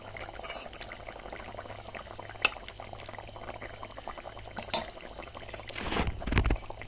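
Rohu fish curry, a light Bengali jhol with green chillies, bubbling in a pot, a soft steady simmer with faint clicks and a louder burst of bubbling near the end.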